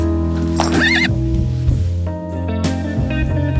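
A horse whinnies loudly in a storybook sound effect over a sustained musical backdrop, the high neigh rising and falling once near the start before the music carries on.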